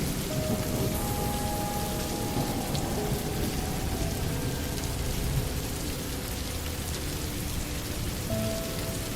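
Steady rain pouring down with a dense, even hiss and patter on surfaces, close and continuous, with a low rumble of distant thunder underneath and no voices.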